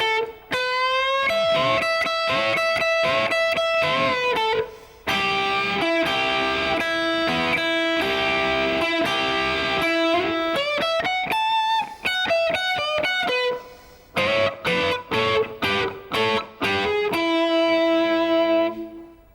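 Distorted electric guitar plays a string of blues shuffle licks, with bends, slides, quick runs and sustained notes, loud and continuous, with brief gaps and a final held note ringing out.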